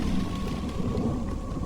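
A thunderstorm with rain in a village, heard as a steady, loud, low rumbling wash of rain and thunder with no gaps.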